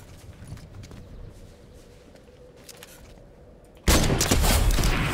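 Gunfire in a battle royale shooter match with sniper rifles: faint crackling shots at first, then a sudden loud burst of dense firing near the end, close and harsh.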